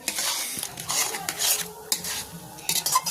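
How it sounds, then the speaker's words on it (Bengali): Grated coconut and jaggery being stirred into a thick sweet filling in a pan, with continuous scraping and clattering of a spoon against metal over a light sizzle. "নারকেল আর গুড় একসঙ্গে মিশিয়ে নিয়ে একটা ডো বানিয়ে নেব"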